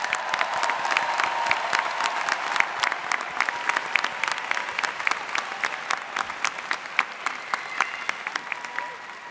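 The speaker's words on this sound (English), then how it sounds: "One more round of applause." Graduates and guests at the Michigan Ross School of Business commencement applaud, a loud, dense clapping crowd with crisp nearby claps and light cheering throughout.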